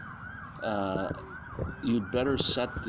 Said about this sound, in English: we got sirens going on here.